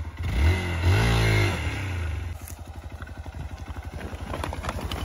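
An off-road motorcycle on a rough dirt trail revs hard, its engine note rising and falling, then settles into a steady pulsing thump as it pulls away. The engine is loud and close.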